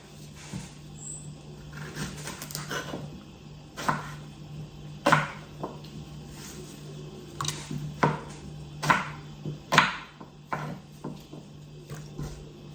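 A knife chops eggplants on a cutting board in irregular, sharp strokes, a dozen or so cuts over a low steady hum.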